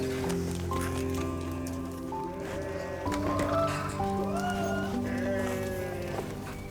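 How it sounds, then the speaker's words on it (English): Sheep and goats bleat in an Anatolian village, with overlapping calls from several animals at close to moderate distance, continuous and fairly loud, with no talking. "Farmers check on their animals, sheep, goats, and cattle."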